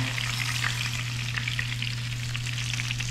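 Kangkong sautéing in Star margarine, a dense close-up crackling sizzle that holds steady for a few seconds without speech.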